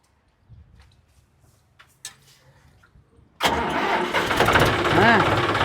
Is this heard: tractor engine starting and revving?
yes